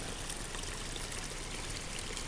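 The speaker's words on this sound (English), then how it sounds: "I just wanted to end it with this babbling, gurgling stream" A small woodland stream babbling and gurgling, a steady close wash of running water with no breaks and no voices.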